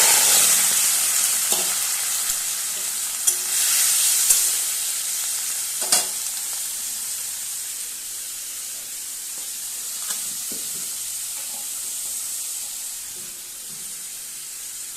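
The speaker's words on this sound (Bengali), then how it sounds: "কড়াইতে সর্ষে তেলটা গরম হয়ে গেছে, এবার চিংড়ি মাছগুলো আমি ভেজে নেব" Prawns sizzle and spit in hot mustard oil in a kadai, a bright continuous fry that slowly settles, broken by occasional stirring clinks and scrapes.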